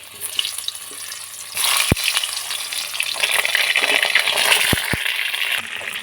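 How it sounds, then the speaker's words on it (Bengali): Pieces of pointed gourd (potol) frying in hot oil for a prawn-stuffed potoler dorma, a steady close sizzle with a few sharp crackling pops, growing louder as more pieces drop into the pan. "এটা ভালো করে ভেজে নেব, খুব ভালো করে ভাজতে হবে।"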